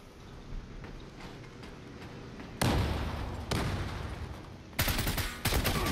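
Bursts of automatic weapon fire in the online shooter Zula on a ship map: faint background noise, then several loud, close volleys of rapid shots separated by short pauses.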